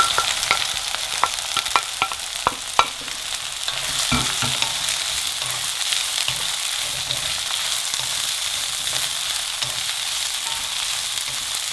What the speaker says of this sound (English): Now keep frying the onions till they're slightly golden in color.